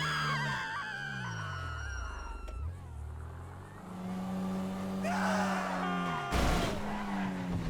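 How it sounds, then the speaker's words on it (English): Pedestrians screaming near the Vinewood Bowl box office in GTA 5, high wavering screams over car engine noise and tire squeal, with a sharp loud burst near the end. "Passing by the box office in Vinewood Bowl results in the sound of pedestrians screaming even when no"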